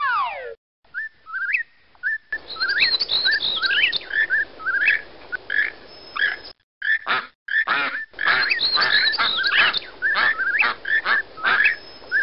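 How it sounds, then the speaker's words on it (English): Several birdsong calls from a video game, including duck, toucan, whippoorwill and blackburnian warbler, with clear whistles, chirps and trills repeating in quick bursts separated by brief silences, sounding close and synthetic. "Click on the duck, toucan, whippoorwill, and blackburnian warbler for a real song fest."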